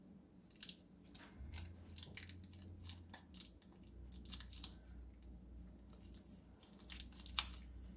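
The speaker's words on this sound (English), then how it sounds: "I might use scissors, might be much easier." Pioneer Woman kitchen scissors snipping through food such as sausage while preparing a low-carb dinner: a series of quick, crisp cuts in an uneven rhythm, close but quiet, over a low background hum.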